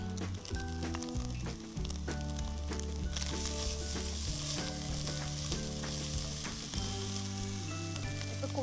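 Grated carrot hits a hot pan of pasta masala with chicken and sizzles loudly, a steady close fry with scraping stirs and clatter running throughout.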